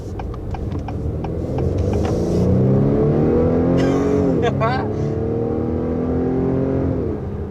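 A 2021 Acura TLX in dynamic mode accelerates hard through its 10-speed automatic, the engine note rising in pitch, dropping at a gear change and climbing again, loud and close under cabin speech.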